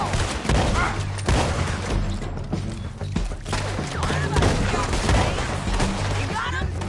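Gunfire in Red Dead Redemption 2 as a rapid fusillade of close, loud shots, with hoofbeats and in-game shouting mixed in the busy action.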